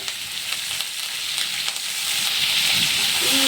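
Green chillies and curry leaves sizzling in hot oil in a pan, a dense crackling hiss that grows slightly louder toward the end, close and steady with no talking.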